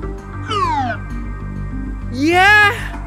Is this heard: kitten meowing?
yes